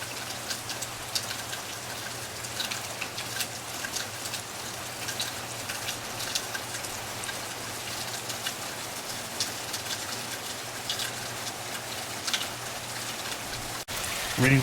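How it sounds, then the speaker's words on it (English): Steady rain falls on the Smith River in March, making a dense, continuous patter and hiss that stays even and fairly loud throughout, with no voices over it. "Rain's picking up again,"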